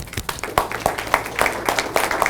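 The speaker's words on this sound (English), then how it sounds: "Hey, let's clap for that one." A small group in a lecture setting gives brief, light applause, with scattered individual claps at close range that fill the short moment.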